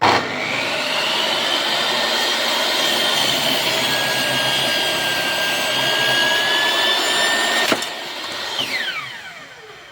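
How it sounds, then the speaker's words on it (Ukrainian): A circular saw crosscuts wood, rasping steadily at close range for several seconds, then the cutting stops abruptly and the sound tapers off. "І будемо пробувати пилку."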